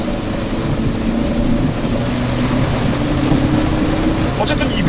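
Heavy rain drumming on a Volvo XC60 D4 during hard driving, a loud, steady, dense wash of noise blended with road and engine rumble from inside the car.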